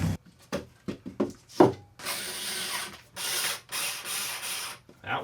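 Screws fitted with sealing washers are driven into the board of a Marshall 4x12 speaker cabinet, with short ratcheting and grinding bursts and then longer buzzing runs, close and loud, with no talking.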